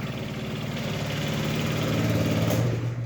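A Yamaha Jog 36 scooter engine runs steadily at a near, even idle, a buzzing putter with no talk over it.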